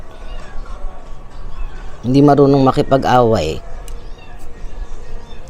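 A kitten gives a drawn-out, wavering meow lasting over a second, close by, with quiet talking and background noise around it.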